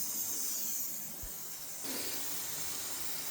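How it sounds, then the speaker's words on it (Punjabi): Tadka tempering sizzling on a cooked vegetable dish in a home kitchen, a steady soft hiss that swells into a brighter spitting sizzle partway through, no talk. "ਸਬਜ਼ੀ ਨੂੰ ਤੜਕਾ ਆਪਾਂ ਨੇ ਲਾਤਾ ਦੇਖੋ"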